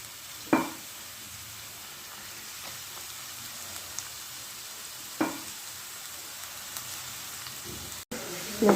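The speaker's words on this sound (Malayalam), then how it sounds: "സവാള ഇട്ട് കൊടുത്തിട്ടുണ്ട് നമുക്കിത് നന്നായിട്ട് വഴറ്റി കൊടുക്കാം" Sliced onions frying in oil in a pan for a fish egg dish, giving a soft continuous sizzle with a few brief stirring scrapes and clatters, fairly quiet throughout.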